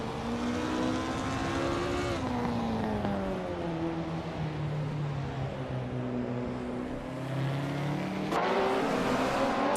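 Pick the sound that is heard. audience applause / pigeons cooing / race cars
race cars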